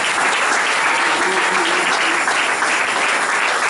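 A church congregation applauds and cheers loudly for the Lord, a dense, sustained wash of clapping that fills the room from start to finish without a break.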